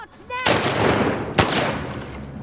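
Gunfire from The Last of Us Part 2 on PS5: a loud sharp shot bursts in after a short quiet lead-in, the shot's noisy tail rings on, and a second crack lands about a second later.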